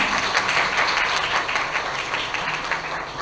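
Audience applause for the chief guest at the closing ceremony of an English language teachers' training, a steady, dense wash of clapping filling the room from start to finish with no break.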